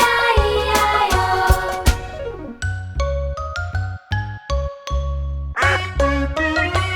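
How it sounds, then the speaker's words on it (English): A duck quacks repeatedly in a children's farm-animal song, the quacks set against bright, tinkling backing music in a bouncy rhythm. "With a quack quack here and a quack quack there."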